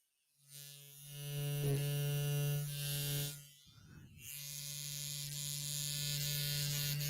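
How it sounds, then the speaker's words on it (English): A Gillette razor's built-in electric trimmer switches on with a close, loud, steady buzz, briefly changes to a rougher rattle when it touches something, then resumes its even buzzing. "Right, it's got a trimmer built into it."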